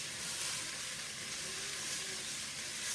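Onions and potatoes fry in a pot for a smoky bacon and corn soup, giving off a steady, quiet sizzling hiss with no talk.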